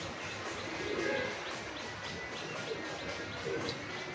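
Pakistani teddy pigeons coo faintly in a few low, throaty bursts, spread out and fairly distant beneath a steady hiss of background noise.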